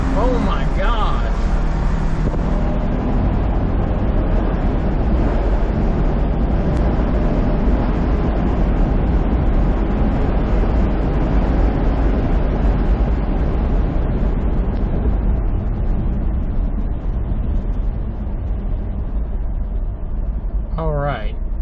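Stock Ford Ranger pickup engine roaring at full throttle with tires spinning during a launch, a loud continuous drone with rising whine that holds steady for about twenty seconds, close and dominant.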